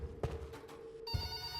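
A telephone rings in The Threshold video game, with a loud electronic trill and a tonal hum behind it, then a second bright ring that holds steady.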